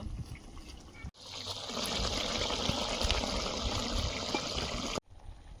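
Loti fish pieces are added to a simmering curry with nearly cooked potatoes, giving a steady bubbling and sizzling wash that starts abruptly, holds evenly for about four seconds, then stops, with faint background noise on either side.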